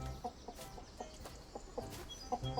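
Chickens cluck in a chicken coop scene of the video game On Your Tail, with repeated short, moderately loud clucks in an uneven rhythm over a soft background.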